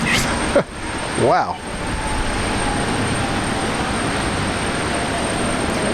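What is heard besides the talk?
airliner reverse thrust after landing at Brisbane Airport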